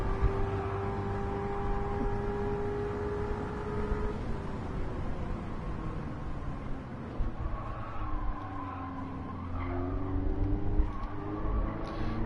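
A race car engine in Gran Turismo 7 drones steadily through laps, its pitch sliding up and down with gear changes and throttle, continuous and moderately loud.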